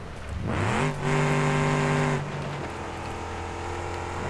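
A van engine in the BeamNG.drive video game revs up while rock crawling off-road, climbing in pitch, then holds a steady strained drone before dropping to a lower rumble, close and loud with no talking.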